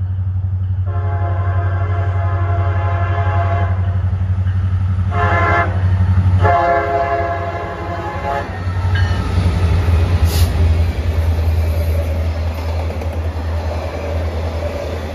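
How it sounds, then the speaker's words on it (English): Norfolk Southern NS-900 OCS train passing westbound at Jimpsum, Ohio, at night: a loud, steady rumble of the train with several long, chorded horn blasts near the start, then continued wheel and car noise. "we catch NS-900, the OCS train, headed west by Jimpsum"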